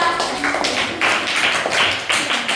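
A group of children clapping together, a dense, steady burst of rapid hand claps lasting a couple of seconds, close and loud, with no talking over it.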